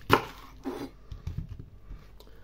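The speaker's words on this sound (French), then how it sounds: "Maintenant, je vais découper mon chou, donc je le coupe" A knife chops through a cabbage, cutting it into quarters in a kitchen, giving a few close, crisp cuts and soft thuds on a board.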